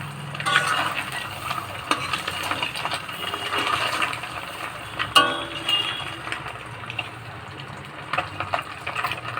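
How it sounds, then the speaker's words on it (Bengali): An egg fries in a pan with a steady oil sizzle, broken by utensil scrapes and a sharp clink or two as it is handled and turned. "এক পাশ হয়ে গেছে ভাজা, আর এক পাশ ভাজবো।"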